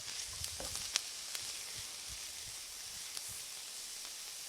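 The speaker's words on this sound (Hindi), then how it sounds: "इसको थोड़ी देर के लिए हम मीडियम टू हाई फ्लेम पे भून लेंगे" Potatoes, minced meat and peas fry in a pan over a medium-high flame, giving a steady, quiet sizzle and hiss with a few soft stirring clicks, with no voices over it.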